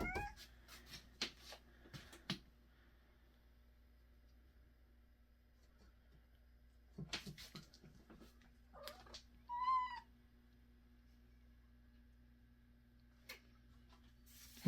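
A black cat gives one short meow amid a mostly quiet room, with a few soft rustles and knocks scattered before and after.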